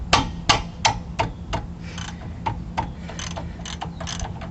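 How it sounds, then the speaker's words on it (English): A 1/2-inch drive ratchet with a short 21mm socket loosens a front brake caliper bracket bolt on a 2003 Ram 1500 pickup. A close, rapid series of sharp metallic clicks repeats in steady strokes, with no voices. "I would use a short socket on a 1/2-inch drive ratchet"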